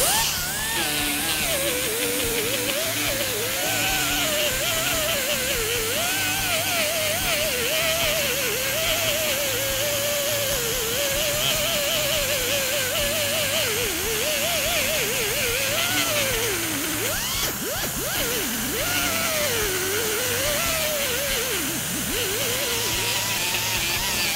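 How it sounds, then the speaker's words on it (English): A grinding wheel fitted with 50 grit works over a car body panel, producing a continuous, loud abrasive whine that wavers in pitch as pressure shifts, steady throughout with no talking. "We'll start to clean up the area just by using 50 grit on a grinding wheel."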